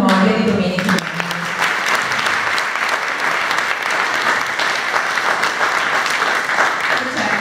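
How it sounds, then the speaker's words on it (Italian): A crowd at a Nativity exhibition event in Codognè, Treviso, Italy, applauds in memory of a local man, a sustained, dense round of clapping that follows a brief moment of a speaking voice. "io farei un applauso alla memoria di Domenico Grando"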